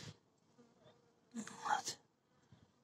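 Reddish robber bees buzz close by, a soft drone that swells into a louder, busier burst of buzzing for about half a second before fading back.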